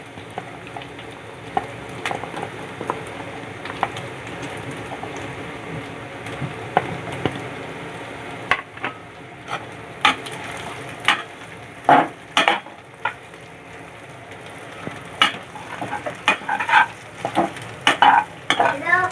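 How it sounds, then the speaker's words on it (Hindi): Onions fry in a pan with garlic, ginger and chilli for restaurant-style chilli paneer, a steady soft sizzle close by, with the spoon scraping and clattering against the pan more often toward the end. "प्याज डालेंगे इसके अंदर। अब इसको फ्राई करेंगे।"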